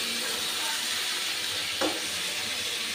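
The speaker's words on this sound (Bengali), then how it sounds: "মাছগুলোর সাথেও মশলাগুলোকে একটু ভালো করে কষে নেব" Fried koi fish sautéed with spices in a pan gives off a steady, loud sizzle and hiss, broken by one short scrape of stirring near the end, with no talking.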